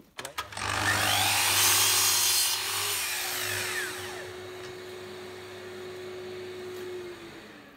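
Festool Kapex KS120 mitre saw spinning up and slicing through wood, a loud whirring motor whine with a bright rasping cut that eases into a steadier spin-down hum, heard close in a workshop without talking.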